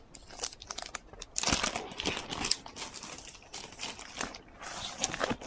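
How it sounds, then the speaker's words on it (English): A cellophane wrapper is peeled off a Panini Adrenalyn XL World Cup 2014 card multipack, making close, crinkly crackling in irregular bursts throughout, loudest in the middle. "Taking the cellophane wrapper off"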